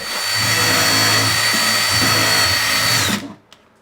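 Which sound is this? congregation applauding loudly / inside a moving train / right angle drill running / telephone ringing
right angle drill running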